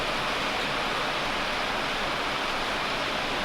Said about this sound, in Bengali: কি পরিমাণে যে বৃষ্টি নামতেছে, অনেক বৃষ্টি নামতেছে।